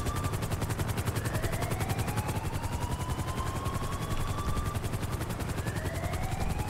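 Marine One presidential helicopter in GTA 5 flying with a steady, fast rotor chop and a continuous engine whine, loud and close throughout, with faint rising and falling tones drifting in the background.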